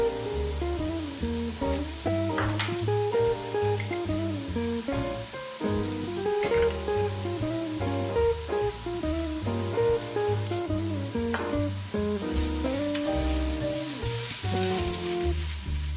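Potatoes and tofu frying in a pan, sizzling steadily while they are stirred, with intermittent scraping and clinks from the utensil throughout.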